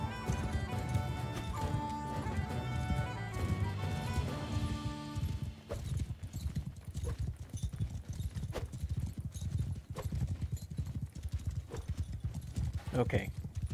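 Horse hooves clip-clopping at a gallop in Mount & Blade II: Bannerlord, a fast drumming rhythm with a brief whinny, mixed with battle clatter and game music early on.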